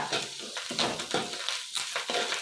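Curry leaves fry in a hot pan with bursts of crackling sizzle and stirring scrapes, fairly soft and close, with no talk.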